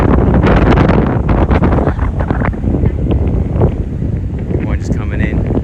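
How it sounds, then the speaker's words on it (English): Strong wind buffets the microphone on a Barbados beach, a loud continuous roar with gusty rumble and possible surf beneath, while a person talks over it. "Sorry you can't hear me very well because of the wind."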